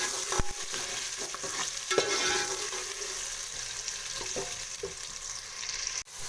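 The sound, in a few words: onions frying in hot oil for chana dal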